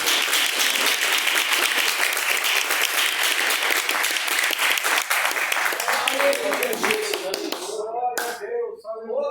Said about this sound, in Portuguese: Receba a serva do Senhor, com palmas, bem alegre, para Jesus.